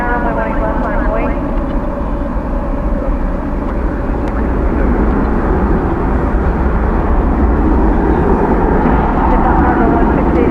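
An aircraft taking off from runway 18 left at Dallas/Fort Worth airport, heard as a loud, steady, broadband jet roar that holds throughout with faint voices underneath.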